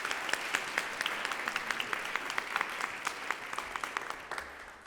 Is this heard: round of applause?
yes